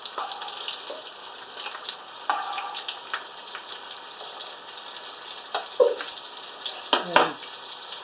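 Battered pork balls deep-fry in hot oil with a steady, close crackling sizzle and a few small clinks and splashes along the way.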